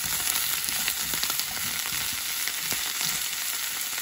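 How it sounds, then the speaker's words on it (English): Shrimp and Brussels sprouts sear in a hot pan with a loud, continuous close sizzle, while a spoon pushes them back and forth in light scraping strokes throughout. "Going basically back and forth with our shrimp and our Brussels sprouts."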